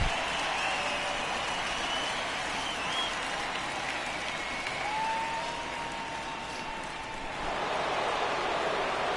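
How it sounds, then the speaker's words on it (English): A Minnesota Twins home stadium crowd in the baseball video game MLB The Show 19 gives a standing ovation after a milestone home run, a sustained, fairly distant roar of applause that dips briefly and swells again. "And the Twins, rightfully so, give him a standing ovation."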